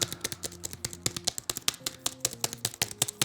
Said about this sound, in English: This is how the keys sound.